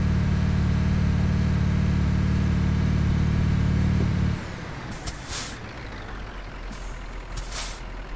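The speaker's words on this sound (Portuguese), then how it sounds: "eu tô usando o freio da carreta aqui" A Scania truck in Euro Truck Simulator 2 holds a loud, steady trailer air brake hiss over an engine drone, which cuts off abruptly midway, leaving quieter surroundings broken by a couple of short, sharp hiss bursts.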